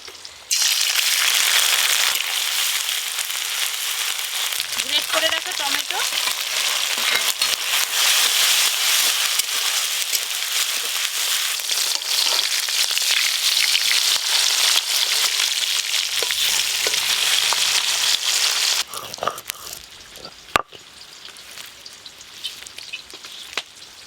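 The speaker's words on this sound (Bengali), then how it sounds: "এবার ইলিশ মাছগুলো ভেজে নেবো" Hilsa fish fries in hot oil with a loud, dense, steady sizzle that crackles without pause, easing slightly near the end as the pieces settle.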